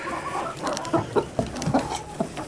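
Hens clucking inside an egg nesting box on a cattle farm, a series of short, close, fairly loud clucks and soft squawks in an uneven rhythm, with no talking.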